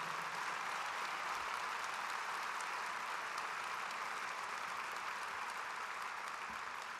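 Steady, sustained applause from a large audience at a national memorial ceremony for Indigenous judge Murray Sinclair, honouring his sisters; dense, even clapping fills the whole stretch without pause or voices.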